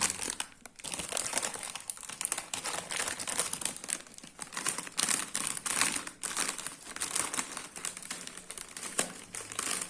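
A crinkly Cheetos chip bag is handled and torn open, giving sustained close crackling and rustling plastic crinkles with sharp bursts, no speech.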